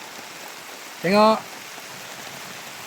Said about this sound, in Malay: Alhamdulillah, rahmat hujan turun.